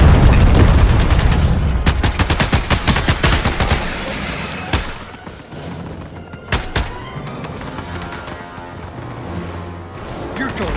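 Missiles fire in the Starship Troopers: Ultimate Bug War! video game, a loud dense burst of blasts and rapid gunfire at first, then scattered explosions and booms over a continuing rumble.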